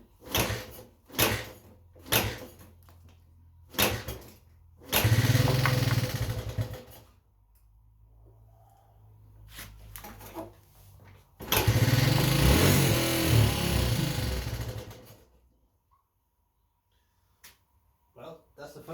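A Suzuki motorcycle engine, smoking and freshly adjusted at the idle screw, is kicked over several times in short bursts, then catches and revs out in two long, loud pushes before cutting off, with someone talking in between.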